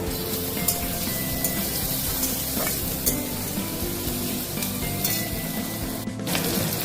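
Chopped green chilli and tomato hitting a hot pan in a Bengali home kitchen, giving a steady, close, continuous sizzle with faint stirring clinks throughout.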